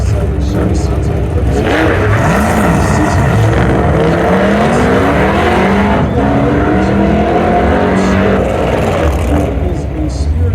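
A modified 1967 Chevy race car on a timed run at an outdoor car show challenge in Las Vegas, its engine revving and roaring loudly as it passes, with tire squeal and an announcer's voice over it.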